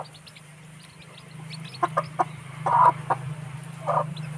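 Soft, scattered clucks and short peeps from young chicks come in small bursts over a steady low hum, close by with no talking.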